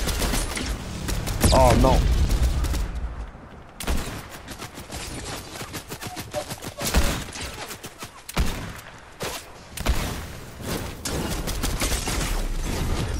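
Sniper rifle fire in Fortnite, sharp shots ringing out in bursts among other gunfire and game effects, with a player talking over the action.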